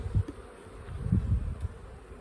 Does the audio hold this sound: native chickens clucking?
no